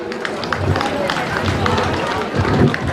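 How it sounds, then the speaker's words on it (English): Crowd clapping for a chief guest at a felicitation ceremony, a steady dense wash of applause running throughout with crowd noise and voices mixed in. "you also please give a big applause for our chief guest, Engineer Tunke Balraji"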